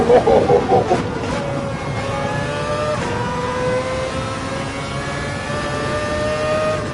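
Racing car engine revving and shifting through gears on a lap in an Xbox racing video game, steady and loud throughout, with rising and falling pitch sweeps and a brief flurry of bumps near the start.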